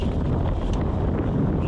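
Steady, loud wind buffeting the microphone while cycling on a bike lane in Taichung, a continuous low roar with no pauses.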